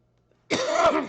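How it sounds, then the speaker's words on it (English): A single harsh cough bursts out after a moment of near silence, close and fairly loud, with a rough throaty texture lasting about half a second. "Sorry for coughing, but I think that's allergies"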